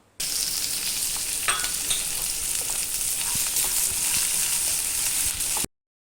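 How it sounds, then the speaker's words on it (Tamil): Onions, green chilies and curry leaves sauté in hot oil, a continuous close sizzle and crackle with occasional stirring scrapes, running steadily before cutting off abruptly. "பச்சை மிளகா, கருவேப்பிலையும் சேர்த்து நல்லா வதக்கிக்கலாம்."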